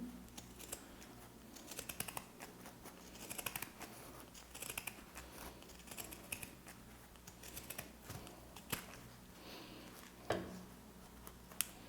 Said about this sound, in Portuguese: com a tesoura de picotar, eu vou começar a tirar todo o excesso dessa peça